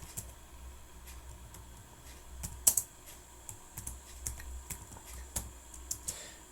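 Keys clatter on a computer keyboard in short irregular bursts while figures are typed into a spreadsheet, close and fairly quiet, with one sharper click standing out partway through.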